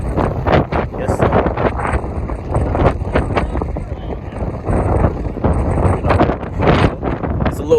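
Gusty wind buffeting the microphone outdoors at a car meet, with roaring, uneven rumbles throughout and faint voices underneath.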